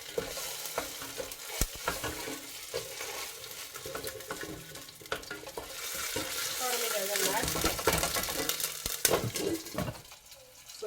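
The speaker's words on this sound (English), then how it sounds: "And I'm trying to burn it, so it can give my stew the color that I need." Tomato paste fries and is stirred in a pan for a stew or gravy base, with steady sizzling broken by scraping strokes of a utensil, close and fairly loud throughout with no talk.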